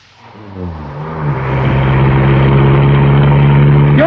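A worn-out, clapped-out car in a radio drama speeds up, its engine a steady, loud drone that builds from a low start and holds a strong rising hum to the end.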